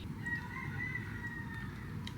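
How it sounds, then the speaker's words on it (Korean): A rooster crows faintly in the distance as one drawn-out call, heard alone over low steady background noise. "이렇게 또 닭소리가"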